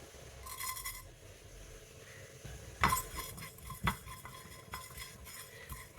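Half a teaspoon of fennel seeds goes into a hot pan on low heat for a prawn curry, with a soft sizzle under light scraping and two sharper clinks of a metal spoon against the pan, fairly quiet and close.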